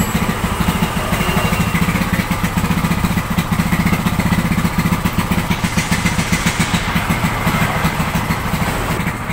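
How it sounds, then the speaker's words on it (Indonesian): A fuel-injected Honda Beat scooter is kick-started and its engine runs at a rapid, steady putter, loud and close throughout, with no speech. "Oke, kita coba engkol, nanti untuk full pumpnya akan hidup seperti itu."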